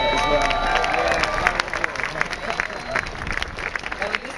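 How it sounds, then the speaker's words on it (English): Crowd applause with scattered cheering at an outdoor equal marriage rights rally in Sydney Square, a dense steady clapping texture with a lively crowd hubbub, loud and continuous throughout. "So a huge round of applause for Lara as well."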